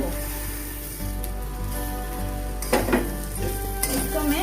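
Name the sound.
stirring roasted vermicelli in a cooking pan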